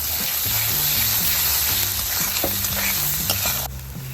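Spices such as Kashmiri red chilli powder and meat masala sauté over low gas for a lentil fritter curry. A dense, steady sizzle with rhythmic stirring scrapes sounds close, then eases slightly near the end.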